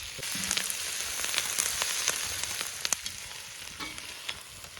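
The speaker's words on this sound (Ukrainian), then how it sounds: "Ох, цибулю, тільки кину сразу, такий аромат. і жаримо до готовності." Onions fry in oil in a cauldron outdoors, giving a steady, fairly quiet sizzle with occasional crackles and stirring ticks.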